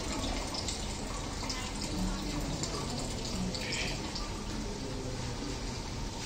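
Water runs steadily from the outlet of a solar-powered UV and RO purification system, a continuous broadband rush with a faint voice in the background.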